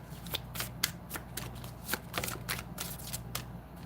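A deck of tarot cards being shuffled close up, a quiet run of quick riffling flutters and soft slaps in an uneven rhythm, with no voices.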